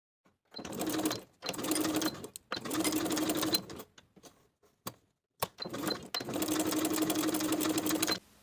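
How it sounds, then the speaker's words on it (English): A sewing machine runs edge stitching along a fabric bag tab in several steady, whirring bursts of a few seconds each, separated by short pauses and faint clicks, close and clear with no talk. "Edge stitch along both long edges."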